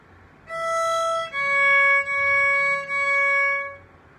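Lightly Row melody phrase played in even quarter notes on a pitched instrument, four clear sustained notes in a steady rhythm, close and moderately loud with no talking.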